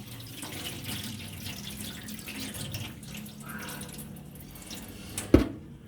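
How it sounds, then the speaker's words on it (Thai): Sticky rice being washed by hand in water, a close, steady swish and slosh of water with a sharp splash or knock near the end, no voices. "ล้างข้าว"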